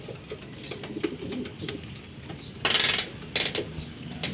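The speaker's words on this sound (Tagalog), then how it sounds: "Medyo okay naman na yung mga ibon natin." Pigeons in a loft, with soft low cooing and a few brief bird calls over a steady background, plus a couple of short louder rustling bursts near the end.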